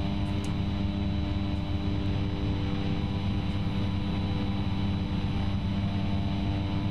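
Steady droning engine of a Cessna C208B in a flight simulator during a climb, a constant loud hum with layered tonal whine and no voices.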